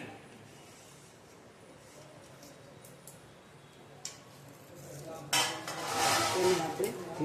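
Vegetable and pulse bhel with finely chopped potato is tossed in a bowl, giving soft clinks and scrapes that build into louder, busier mixing clatter toward the end.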